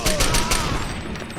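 Gunfire in Far Cry 2 as a suppressed magazine of eight rounds is emptied, a quick run of muffled shots in steady succession that fade toward the end, with voices over it.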